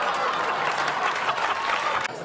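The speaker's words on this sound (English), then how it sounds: "hold for applause" Studio audience at a Weekend Update comedy segment bursting into dense, loud applause that holds steady for about two seconds and then cuts off abruptly.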